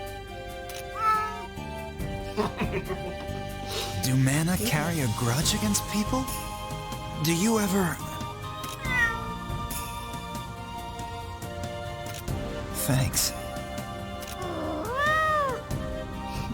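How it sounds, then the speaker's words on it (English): A cat meows repeatedly in the video game Mana Khemia, with several rising and falling calls that sit under and between people talking casually over the game. "I just like hear the cat noise."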